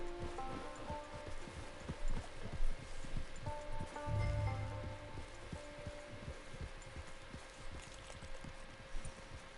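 Video game horse hooves clop along at a steady walking pace, faint and fairly close, with light rustling and ambient game sounds underneath and no talk.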